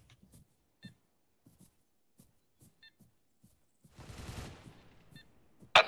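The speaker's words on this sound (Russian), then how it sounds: "Услышишь мою стрельбу, выходи и стреляй сам." Gunfire in the military shooter Arma 3, heard as scattered faint distant shots with a few soft electronic beeps, then a denser burst of firing and a sharp loud crack at the very end.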